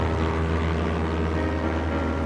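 A droning Sopwith Camel biplane engine in a World War I flying scene from a high school stage production, a steady, loud propeller hum holding without a break.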